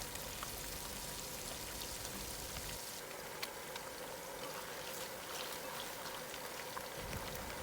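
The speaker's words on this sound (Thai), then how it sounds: "นำลงทอดไฟกลางค่ะ" Flour-coated pieces of fermented pork naem fry in oil over medium heat, giving a dense, even crackling hiss like steady rain that continues unbroken throughout.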